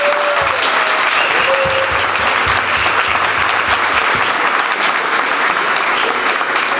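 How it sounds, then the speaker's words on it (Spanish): Loud, sustained applause from an audience thanking panelists at the close of an expert talk on coronavirus (Covid-19), dense clapping that stays even and unbroken from start to finish, with a few brief whistles or voices near the beginning. "por supuesto un aplauso a nuestros"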